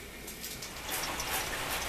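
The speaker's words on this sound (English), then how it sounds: "It's a rainy morning." Steady rain falls on a farm homestead on a wet morning. It makes a soft, continuous hiss that grows a little denser partway through, with no talking.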